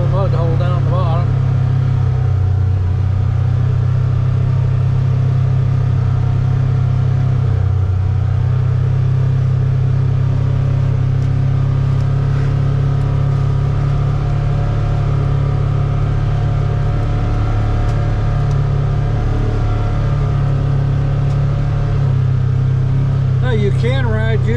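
A UTV engine drones loud and steady while driving a trail around Fairfield Bay, Arkansas, a constant low rumble throughout with people talking over it.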